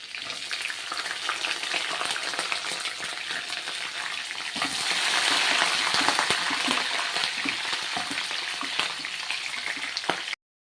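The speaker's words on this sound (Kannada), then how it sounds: "ನಾನು ಇದಕ್ಕೆ ಕರ್ಬೇವಿನ ಸೊಪ್ಪು ಹಾಕ್ತಾ ಹಾಕ್ತಾಯಿದ್ದೀನಿ" Curry leaves fry in hot oil for shavige upma, a constant close hiss and crackle of sizzling that swells louder partway through before cutting off abruptly.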